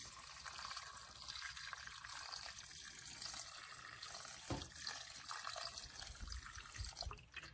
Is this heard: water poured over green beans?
yes